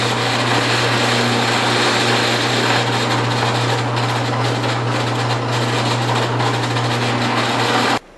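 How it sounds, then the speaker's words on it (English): A power drill boring entry holes in wood for scroll saw interior cuts, a loud steady motor whine and grinding drone running continuously for several seconds before cutting off abruptly, with no talking. "we can drill our entry holes for the interior cuts"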